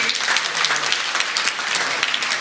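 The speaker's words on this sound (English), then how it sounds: "let's give Miss Gigi a round of applause for her work in community." A seated audience at a community senior event claps steadily in a continuous, moderately loud round of applause.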